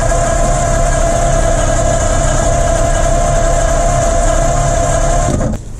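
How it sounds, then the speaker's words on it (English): Engine of a 1950 Ford flathead V8 with no fuel supplied, loud and steady as it turns over continuously for several seconds, then cutting off abruptly near the end. "When I activate this wire, it should turn the whole engine over."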